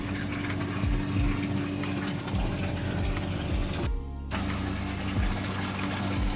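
Water rushing through a venturi flow apparatus in a lab, filling the manometer tubes with a steady pump-driven gush and low rhythmic throbbing, briefly cut by a short gap.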